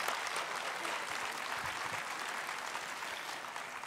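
Audience at the 2015 Assises de l'énergie Grand Forum applauds steadily throughout, a dense, even wash of clapping in a large hall that fades slightly toward the end.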